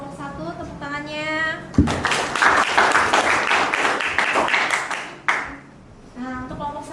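Classroom applause for a student group's performance, a burst of clapping from the seated class lasting several seconds, with a teacher's voice talking before and after.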